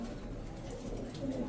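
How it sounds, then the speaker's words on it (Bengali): A male Pakistani Nazra Kaldum racer pigeon coos softly in low, throaty murmurs, faint and close, with people talking nearby. "পাকিস্তানি নাজরা কালদম রেসার একটা নর কবুতর।"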